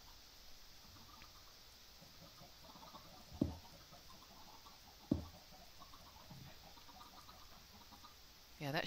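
Chickens in the Minecraft video game cluck faintly and sporadically in a quiet scene, with a couple of soft knocks and a brief louder burst at the very end.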